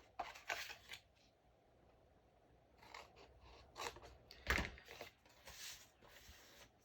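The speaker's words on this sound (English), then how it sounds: "just cut right on that score line of these rectangles" Scissors cutting paper along a score line for a mini album, a series of quiet, crisp snips in uneven bursts with short pauses between them, close and alone.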